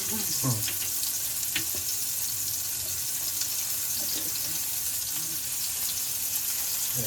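Pomfret fish fry Malvani-style in a pan over a low flame with a continuous moderate sizzle, broken by a few faint clinks and stirring knocks near the start.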